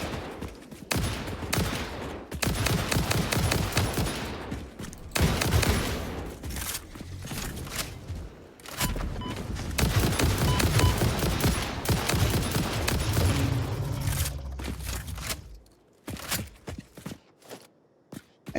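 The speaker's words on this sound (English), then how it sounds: "Expected the rifle to do a little more damage than that, but I guess I'll take the rapid fire" A rifle in the factory-building video game Satisfactory fires in rapid, crackling bursts, loud and close, rattling on in long volleys with brief gaps between them and a few scattered shots as it trails off.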